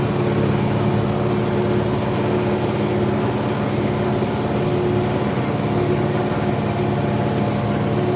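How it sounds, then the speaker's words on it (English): A steady, rumbling IH 4786 tractor engine drone runs continuously at an even pitch, close by and fairly loud, with no other sounds. "Yes, this is my tractor."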